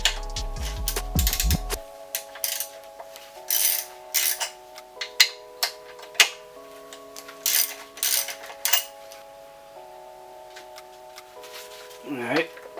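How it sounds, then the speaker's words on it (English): A ratchet wrench backs out two 13mm bolts from the coolant piping of a Mustang SoBra, giving repeated quick clicking bursts separated by short pauses, close and clear, with faint tonal hum in the background. "So now I'm going to remove these 2 13mm bolts that got the studs going through them"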